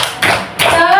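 A few loud, sharp claps close by during a clapping chant in a first-grade classroom lesson, two distinct bursts separated by a short pause, with a voice briefly audible.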